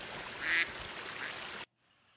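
A duck in a video game quacks loudly over a steady pond ambience, one sharp call standing out near the start before the sound cuts off abruptly.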